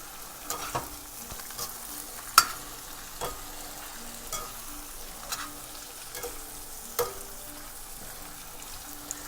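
Spinach being stirred and sautéed in oil in a pan, a steady soft sizzle broken by irregular scraping and clinking stir strokes, close and moderately quiet with no talking.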